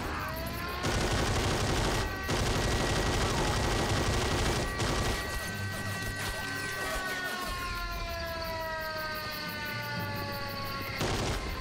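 A big turret gun fires in the war game Men of War: Assault Squad 2, loud dense bursts that roll on almost without pause, with tonal whines and a siren-like wail rising through the din.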